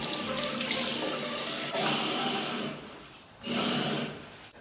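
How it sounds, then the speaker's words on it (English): Tap water running into a cup at a sink, a loud close gush in bursts that stops, restarts and tapers off, with no talking. "Just filling my cup with some water,"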